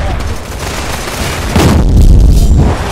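A grenade explodes in the first-person shooter Line of Sight, a loud booming burst that comes amid a continuous rattle of game gunfire, with a voice briefly heard in the mix.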